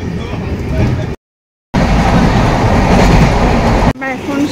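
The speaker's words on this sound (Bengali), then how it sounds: "জিপি থেকে ট্রেনটা আমাদের ছেড়ে দিয়েছে," A passenger train leaving New Jalpaiguri rumbles loudly and steadily with rattling wagon noise, broken by a brief silent gap, and a voice speaks near the end.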